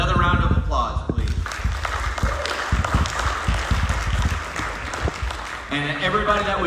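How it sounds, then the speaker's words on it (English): Applause fills a premiere Q&A audience, clapping continuously through the middle stretch, with someone speaking over the start and end. "Another round of applause, please."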